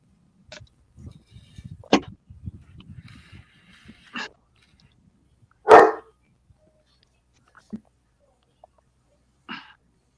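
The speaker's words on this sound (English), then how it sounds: "One of the dogs is saying, I need out." A dog barks to be let out, a few sharp single barks spread across a quiet room, with one loud close bark standing out among softer scattered ones and faint rustling between them.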